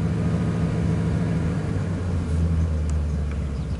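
A 1999 Ford F250 pickup with the 5.4L V8 and a surging, rough idle, revving gently off idle; a steady, close, low engine rumble holds without any sharp climb.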